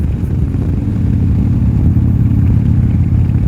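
A 1987 Harley-Davidson FXRC motorcycle engine runs nearby with a loud, steady, deep rumble, continuous with no breaks.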